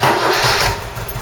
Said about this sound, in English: Let's fire her up now and see how it ticks over.